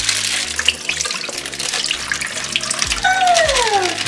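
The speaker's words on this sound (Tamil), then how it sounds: "ஸோ முதல் தண்ணியை ஊற்றி விடுவோம்." Water poured for dyeing Easter eggs, a continuous splashing, running pour close by that holds steady for about four seconds with no talk over it.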